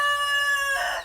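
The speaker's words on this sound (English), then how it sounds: "there's the rooster." A Delaware rooster crows once, close and clear, a sustained harmonic call that rises and then breaks off with a rough ending, with no talk over it.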